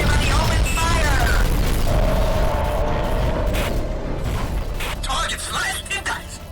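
Weapons fire and explosions in the AquaNox underwater combat game make a loud, continuous rumbling roar with mechanical whirs and bursts, and a voice speaks over the din.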